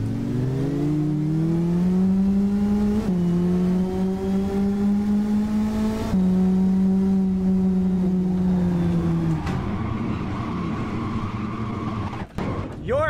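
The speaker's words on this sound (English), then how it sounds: "I don't like the engine sound on this car at all" Mini car engine revving: a steady, droning engine note rising slowly in pitch, dropping briefly at gear changes, then rougher and fading near the end, fairly close and loud.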